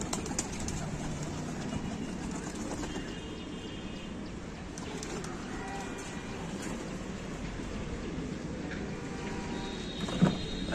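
Pigeons coo and stir as their net is opened, a steady, moderately loud layer of bird sound with scattered knocks and rustles and a sharp bump near the end.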